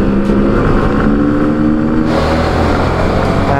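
A KTM Duke motorcycle speeds past on a city street, its engine note loud and close with a steady droning tone that shifts sharply partway through as the bike passes.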